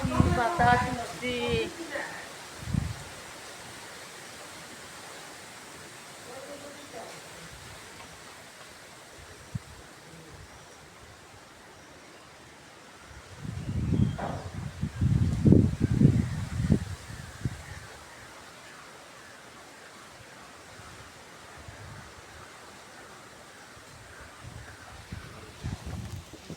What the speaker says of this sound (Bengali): কি বাতাস।